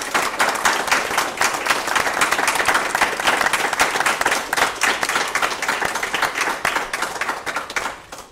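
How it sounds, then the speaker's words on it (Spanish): Audience applause after an official introduction at a formal event, a dense, steady wash of many hands clapping for about eight seconds before tapering off at the end. "Esther Castellanos, para quienes pido, y también para ustedes, un fuerte aplauso por habernos acompañado en esta ocasión."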